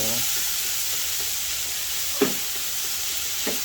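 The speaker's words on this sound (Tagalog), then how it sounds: "As always, lutuin maigi ang kamatis. Durugin natin kamatis," Tomatoes sizzling in a pan while being cooked and mashed for sautéed bitter melon, a steady close hiss with a couple of soft scraping stirs and no talking.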